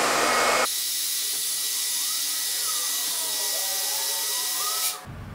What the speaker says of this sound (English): So what we're doing is just kind of fluffing the hair up and blow drying it.